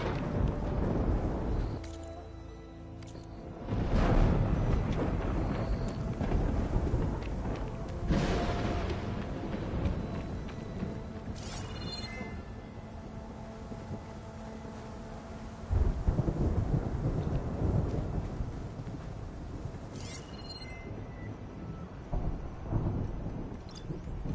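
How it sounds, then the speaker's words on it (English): Thunder rolls and booms through a thunderstorm in the game Horizon Forbidden West, with loud low rumbles swelling and fading several times over steady rain and wind. "Thunderstorm."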